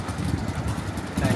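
A tricycle engine idling in Boracay, a low rumbling putter heard close and steady with some background street noise.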